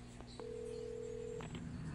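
A telephone in a gas station in the video game Alan Wake being dialed, with a steady tone and a few short keypad beeps over a low background hum.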